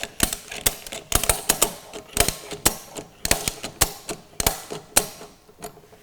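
A ratchet strap handle is cranked to tension a strap around a drum, producing a run of sharp mechanical clicks in uneven bursts, close and fairly crisp, with no talking.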